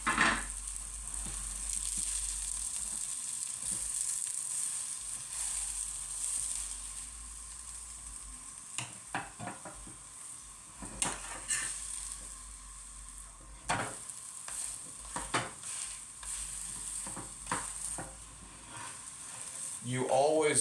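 A quesadilla sizzles in a heated pan, a steady close frying hiss lasting throughout with occasional scraping and utensil clicks, and some brief speech under it.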